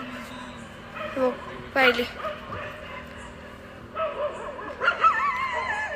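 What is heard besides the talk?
dogs barking at night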